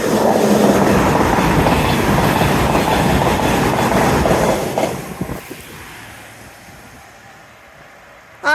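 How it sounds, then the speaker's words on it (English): A Great Western Railway IET train passes a road overbridge with a loud, close rush and rhythmic wheel clatter that fades after about five seconds, leaving quiet until a brief sharp noise at the very end. "Passing through now will be an IT for Great Western Railway."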